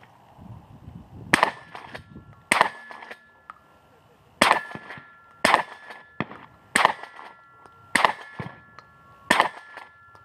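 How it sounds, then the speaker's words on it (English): Suppressed gunshots strike steel targets in a series of about eight sharp, ringing clangs spaced a second or so apart, each impact followed by a short metallic ring. "Just buy a suppressor and ring steel."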